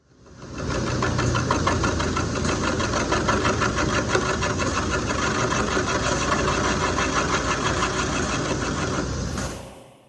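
A wood lathe turns an off-center octagonal wooden blank for a snowman ornament, producing a loud, steady whirring drone with a rapid rhythmic thumping from the uneven wood. It rises in at the start, holds, then winds down.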